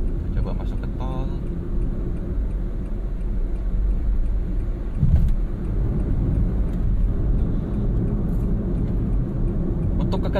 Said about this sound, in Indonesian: yang pasti mungkin Anda juga bisa dengar adalah road noise. Jadi suara dari aspal, dari ban masuk ke dalam